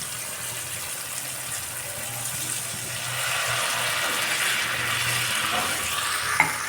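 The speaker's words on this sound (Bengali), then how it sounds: "জল দিয়ে দিব।" Water splashes into a hot pan of fried masala for a pomfret curry made without onion or garlic, the steady sizzle swelling into a louder, hissing boil as the water goes in.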